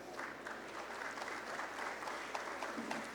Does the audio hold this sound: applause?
yes